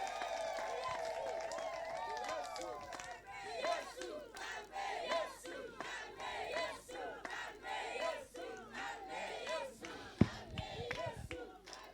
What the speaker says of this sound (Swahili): Makofi na vigeregere.